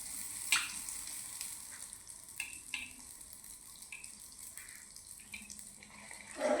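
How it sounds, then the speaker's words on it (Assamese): Bor pitha, an Assamese rice cake, frying in hot oil, a soft, low sizzle with scattered clinks and brief scraping touches, then a louder rustle at the end. "পিঠাটো অলপ ৰঙচুৱা হোৱালৈকে ভাজি ল'ম"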